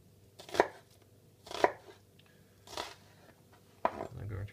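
A knife chops through a peeled onion on a cutting board in four distinct, crisp strokes spaced about a second apart, close up, with faint room noise between cuts.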